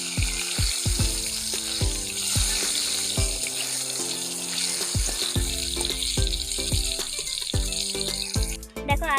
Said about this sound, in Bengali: এবার আলুগুলো একটু ভালো করে ভেজে নেব